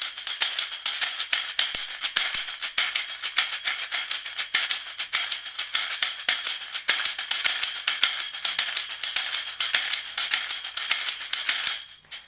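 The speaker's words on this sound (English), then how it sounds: "we're gonna be striking that tambourine on our palm." Tambourine struck against the palm with a twisting hand motion on down and up strokes, producing a steady, bright continuous jingle shimmer with rhythmic accents, close and alone.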